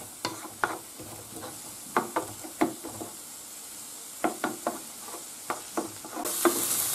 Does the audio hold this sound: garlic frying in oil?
yes